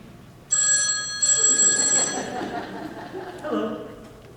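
A telephone rings on a school stage during a fall production of the play Harvey, its bright electronic trill sounding in two bursts, followed by a voice speaking over the fading tail.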